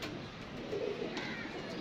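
A pigeon coos softly at close range, one low rounded call rising out of a quiet, noisy room background, brief and faint.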